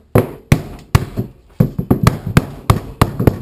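A black mallet drives a fitting into place on a cat perch frame, landing a series of sharp, close knocks in an uneven rhythm, roughly a dozen blows with quick follow-up taps.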